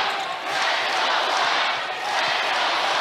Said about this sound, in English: Crowd chants loud, let's go Drake.